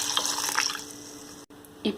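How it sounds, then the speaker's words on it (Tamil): Water poured into a pot of rasam made with tomatoes and thoothuvalai, a steady soft splashing pour that runs about a second and a half, followed by a brief faint splash. "இப்போ ரசம் குவான்டிட்டி தேவையான அளவுக்கு தண்ணி சேர்த்துக்கிறேன்."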